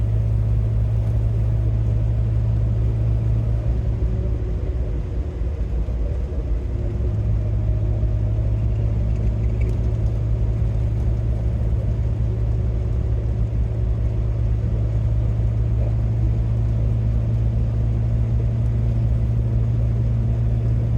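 A Triumph GT6 sports car cruises a mountain road over Guanella Pass, its engine a steady low rumble heard from inside the cabin with constant road and wind noise, little change in pace throughout.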